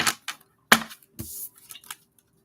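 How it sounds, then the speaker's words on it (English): A deck of oracle cards is shuffled by hand up close, giving several quick papery riffling bursts separated by short pauses, with no talking. "Because I didn't get a good shuffle"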